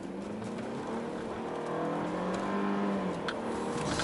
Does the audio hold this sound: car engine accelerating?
yes